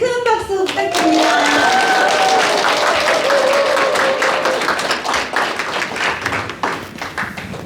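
Lecture audience in Daegu giving a big round of applause to the speaker, dense loud clapping from many hands that fills the room and slowly thins out, with a few voices calling out over it.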